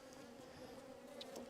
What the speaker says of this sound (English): Please go away, bee.